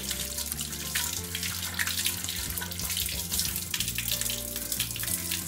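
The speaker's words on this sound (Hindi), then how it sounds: "हैंड को अच्छे से धो लेंगे।" Tap water pours steadily into a sink while hands are washed, a continuous close splashing rush with no talk over it.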